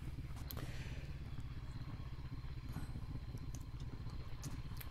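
A Honda CB500X motorcycle rumbles steadily while descending a mountain road, its low twin-cylinder engine note under continuous wind and road noise, with a few light clatters.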